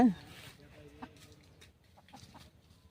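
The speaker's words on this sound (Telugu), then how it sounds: "ఒక పది కోడి పెట్టలు" Native country chickens at a small village poultry farm with hens and roosters: a brief louder call opens, followed by faint, scattered clucks at a distance.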